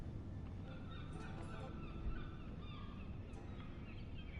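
A bird honks repeatedly in the Game of Thrones video game, goose-like calls at moderate distance over a steady low ambient bed, with no voices.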